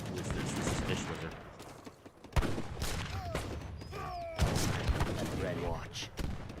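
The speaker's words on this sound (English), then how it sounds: "You're gonna have to watch out for these cannons." Cannons and gunfire in a fan-made video game: sharp booms and rattling shots burst over continuous battle noise, with a couple of louder blasts standing out, mixed with whooshing effects and chattering game voices.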